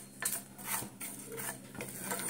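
Cumin seeds, fennel seeds and dried red chillies dry-roasting in a pan, with close metallic scrapes and clinks of a utensil stirring them in irregular bursts, alone and fairly quiet.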